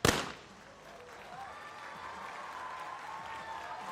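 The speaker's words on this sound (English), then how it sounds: "his popularity can be heard from the crowd, and showing their appreciation for the athlete representing India." At a men's skeet final of the ISSF World Cup in New Delhi, a sharp shotgun-like crack opens, followed by a moderate, sustained ripple of crowd applause for the shooter.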